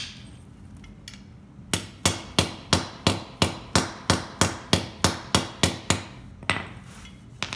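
Hammer tapping a socket onto a wiper linkage bushing of a 1970 Cuda, about sixteen sharp metallic strikes in a steady, even rhythm, close and loud with no talk.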